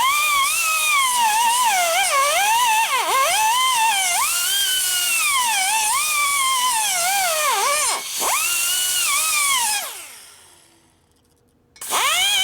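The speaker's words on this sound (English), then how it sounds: "Sizing the seat, you hear me rubbing on against the steel." Porting tool sizing a valve seat on a new set of 110ci S.E. Harley touring heads, a continuous high whine rubbing on steel with wavering pitch, close and loud before spinning down.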